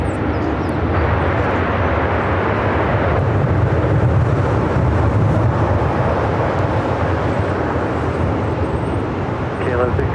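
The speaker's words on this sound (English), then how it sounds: "This arrival is Alaska Airlines 1160, a 3-year-old MAX 9 coming in from Portland" An Alaska Airlines Boeing 737 MAX 9 arrives at Los Angeles airport, its loud steady engine roar rumbling continuously, with a voice talking over it.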